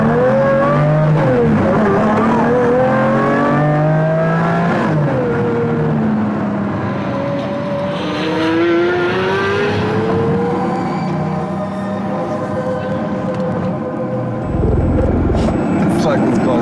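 A car accelerates hard with a loud, close engine note rising in pitch through several gear changes, and voices talk over the roar near the start.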